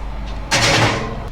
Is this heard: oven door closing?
yes